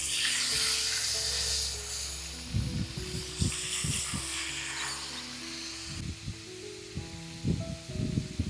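Smoked milkfish fries in a pan in an outdoor rice-field kitchen, giving a soft, moderately quiet sizzle and hiss that fades after the first few seconds, broken by scattered scraping and handling knocks.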